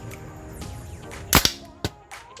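A gun fitted with a homemade silencer fires outdoors: one muffled, sharp crack, then a second, quieter snap half a second later. Both sound close against faint background noise.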